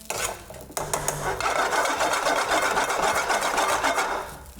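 Spoon scraping and stirring egg fried rice in a pan, a busy continuous rasping and clattering at close range that runs steadily for several seconds before easing off.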